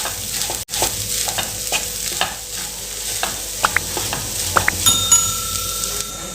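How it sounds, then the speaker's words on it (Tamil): Food scraped and stirred around a pan as omelette pieces and rice are mixed together, with repeated close clicks and scrapes of a spoon over a soft, steady sizzle. "இப்போ நம்ம ஆம்லேட்டும் ரைஸும் ஒன்று சேர நல்லா மிக்ஸ் பண்ணி கொடுத்துக்கலாம்"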